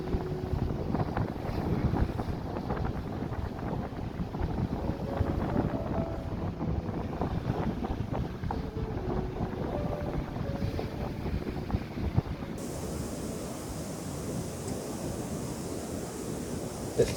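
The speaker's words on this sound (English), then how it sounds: "the wind is so distracting" Wind buffets the microphone at the seaside near Norman's Bay, a steady loud rumbling roar with gusty swells and surf-like wash throughout, no voices.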